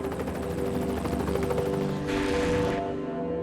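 Rescue helicopter airlifting injured hikers in grizzly country, a steady rotor drone with pulsing chop filling the whole stretch, a brief brighter rush of noise near the end.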